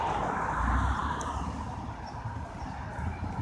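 Street traffic on a spring day in a city gives a steady, moderate roar of passing cars and engines, fairly close, with no voices.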